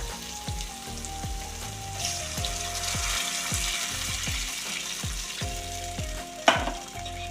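Water poured into a hot pan of cooked vegetables for rava upma, a sizzling, bubbling hiss under repeated metallic knocks and clinks, with one louder clatter near the end.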